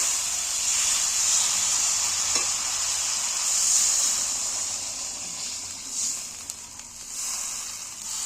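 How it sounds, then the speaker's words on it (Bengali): Water goes into a pan of fried spice paste for a prawn and jackfruit curry, turning the sizzle into a steady loud hiss and bubbling, with a few faint clinks and stirs. "এইবার আমি পরিমাণ মতো জল দিয়ে দেবো"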